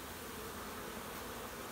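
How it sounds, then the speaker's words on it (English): Bees buzzing at a beehive in a woodland garden, a dense continuous drone of many insects close by, steady and unbroken with no voices. "Let's go visit a beehive and have a little listen to our friends."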